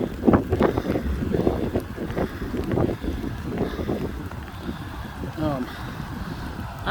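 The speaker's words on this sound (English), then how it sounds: "The wind's blowing." Wind blowing outdoors during a rainy walk near an irrigation canal, a gusty rumble buffeting the microphone in uneven bursts, fairly faint, with a few brief bird-like chirps.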